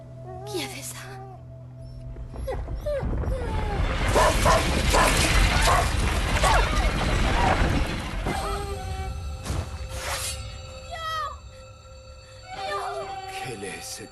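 A dog in the game A Plague Tale: Innocence barks and whimpers in short bursts, mixed with in-game French dialogue and a commentator talking over it.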